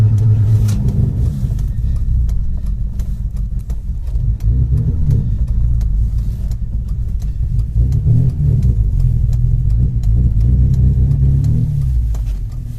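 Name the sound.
Ford XR3i engine revving with throttle blips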